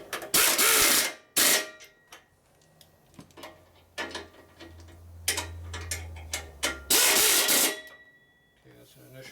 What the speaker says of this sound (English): where'd my zip gun go? Gotta get one more bolt in there yet